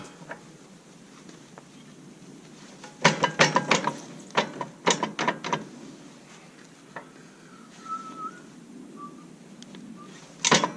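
Quick bursts of ratchet clicking from tightening the front snowblower mount (B2782B) on a Kubota B2601 compact tractor. Several close, crisp runs are separated by pauses over a quiet background, with no talking.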